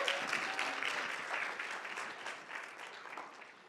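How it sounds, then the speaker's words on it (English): An audience at a nursing class orientation claps together in a steady, dense round of applause that gradually tapers off, with no voices over it. "A big round of applause for making it this far."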